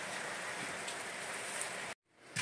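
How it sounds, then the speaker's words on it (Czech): Rain falling outdoors, a dense steady hiss of drops pattering on surfaces, fairly close and even, cutting off abruptly near the end. "neviem, či vidno, že prší, ale prší"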